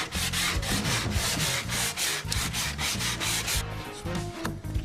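Pine shelf edge being hand-sanded, a steady close scraping rub in repeated back-and-forth strokes that keeps going without a break.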